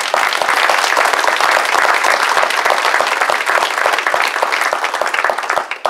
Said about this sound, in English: let's give Tiara another round of applause